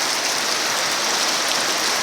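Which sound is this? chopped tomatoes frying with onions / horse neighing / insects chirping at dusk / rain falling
rain falling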